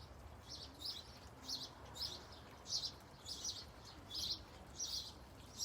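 Baby birds in a nest chirp as a parent returns to feed them: a faint, high, repeated chirping in regular bursts over a soft outdoor background hiss.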